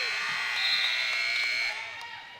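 A loud, sustained buzzer sounds over crowd noise in a school gym at the end of a basketball game between the Heritage Hawks and the Darrington Loggers, holding steady and then tapering off.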